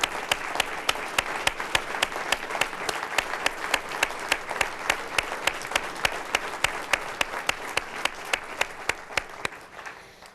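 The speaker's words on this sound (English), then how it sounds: "They need that round of applause" An audience at a city's State of the City address applauds for a team standing to be recognized. Sustained, crisp clapping rises to a strong, even level and holds, then fades at the very end.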